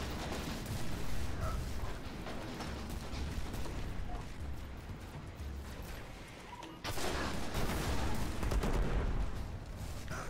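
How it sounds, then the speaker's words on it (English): Enemy rocket fire in the Destiny game, a dense continuous barrage of blasts and rumbling explosions with a louder surge of impacts near the end, under constant game noise. "That guy's shooting rockets too."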